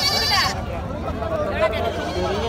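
Goats bleat at a crowded livestock market in Kerala, several wavering calls near and loud over a constant murmur of people talking in the background.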